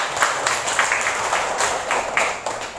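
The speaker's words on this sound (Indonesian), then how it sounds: "Tepuk tangan dulu." A classroom of students claps together in a steady, rapid round of applause, close and fairly loud, without any talking.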